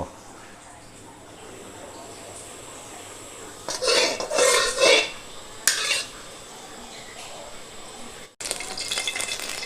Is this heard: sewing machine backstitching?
no